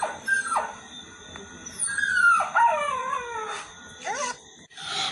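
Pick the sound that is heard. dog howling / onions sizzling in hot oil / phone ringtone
dog howling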